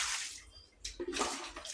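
A child washing face and feet at home, with water splashing and pouring in bursts, loud and close, a quieter stretch in the middle before the splashing picks up again.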